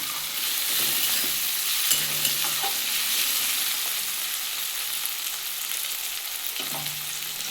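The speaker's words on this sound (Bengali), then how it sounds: "দেখুন আমার পেঁয়াজটা ভাজা হয়ে গেছে লাল লাল করে আর টমেটোটাও অনেকটা গলে গেছে" Onion and tomato fry in oil in a pan for a spicy bata fish curry, giving a steady, close sizzle with occasional stirring scrapes throughout.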